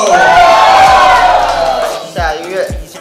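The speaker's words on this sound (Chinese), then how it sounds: "大家给他掌声跟尖叫！" A loud audience screams and cheers at a raucous hip-hop singing contest, with a sustained shrill crowd roar that fades, then short bursts of shouting and clapping at the end.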